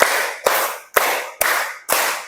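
Five evenly spaced hand claps in a steady beat from a clapping game, each a sharp close slap with a short hissy tail, no talking.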